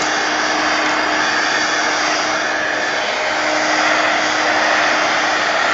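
Hair dryer blowing steadily to dry thick paint on a mixed-media craft project, a loud, close, unbroken whooshing hum with a faint motor whine and no speech.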